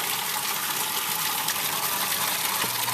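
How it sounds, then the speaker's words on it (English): A water pump pushes water into a vertical garden in Los Angeles, giving a steady, close rushing and gushing hiss that runs unbroken throughout. "Now I'm going to pump that water into this vertical garden that we just built."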